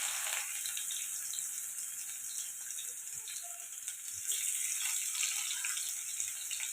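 Cumin seeds and coarsely crushed garlic sizzle in hot oil, a steady, fairly soft crackling hiss that holds throughout with small pops scattered over it.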